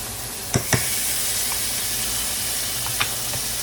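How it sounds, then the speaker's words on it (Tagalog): Butter melting in a hot pan for honey garlic shrimp gives a steady close sizzle and hiss, broken by a few sharp clicks of a utensil against the pan. "Habang nagme-melt ang ating butter"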